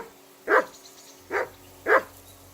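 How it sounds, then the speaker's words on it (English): A dog named Mutt barks in the medieval role-playing game Kingdom Come: Deliverance II: three sharp, close barks spaced evenly about a second apart, with a quiet background between them. "Whistle at that mutt of yours to stop barking."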